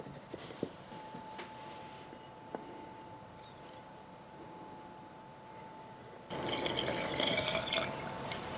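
Water poured into a sourdough starter mixed with flour: faint drips and small ticks over a quiet hum, then a louder splashing pour in the last couple of seconds.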